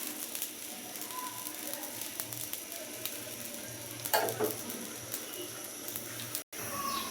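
A little water is added to a pan of cooking tomatoes, setting off a steady, moderate sizzle with stirring scrapes and a brief louder spatter midway, then a short cut near the end.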